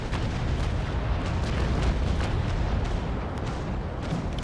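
A broadside of chain shot fired from the frigate Essex at an enemy's sails in Naval Action, a dense string of heavy cannon booms rolling continuously and loud with a rumbling tail.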